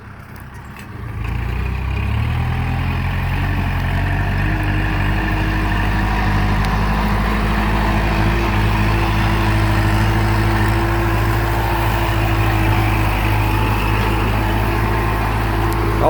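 A Kubota L5018 tractor engine runs steadily while plowing a rice paddy, a loud continuous low diesel drone with harmonic hum that settles in after a softer first second and holds for the rest.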